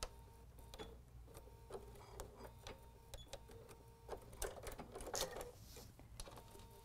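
A sewing machine stitches fabric in short bursts with pauses for pivoting, faint, close mechanical clatter and clicks in an uneven rhythm, no talk.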